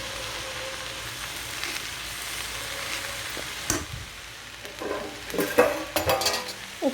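Amaranth leaf palya fries in a pan with a soft, steady sizzle, then a spoon stirs and scrapes, knocking against the pan in clustered clinks and bumps toward the end, close and without talk.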